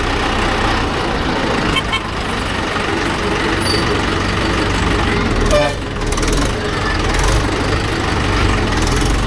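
Mahindra Yuvo Tech Plus 585 4WD tractor engine running steadily, a loud, continuous low rumble throughout, with voices talking over it.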